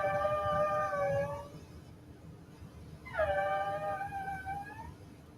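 Male and female insect wing beats interact as two overlapping, layered harmonic buzzes that bend and shift against each other in two separate bursts, clear over a soft background hiss.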